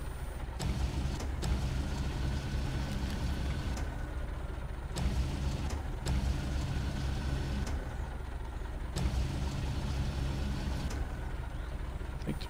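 A truck engine in the off-road driving game SnowRunner strains steadily under load, a loud, continuous low rumble with periodic surges and dips as the vehicle struggles to move, with no talking over it.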